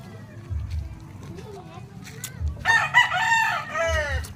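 A gamecock rooster, a Boston sweater, lets out one loud, close crow midway through, with quieter clucks and someone talking nearby.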